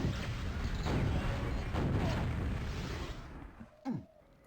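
In a QuakeWorld duel, a rocket explodes with a muffled, rumbling blast amid steady game noise, followed near the end by a short, sharp burst.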